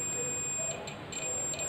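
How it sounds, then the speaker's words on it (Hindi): A multimeter's continuity buzzer beeps while a shorted diode from a Samsung 32-inch LED TV power supply board is tested, giving a steady high electronic tone broken by brief gaps, with no talking. "ये देखिए आपका बजर बज रहा है"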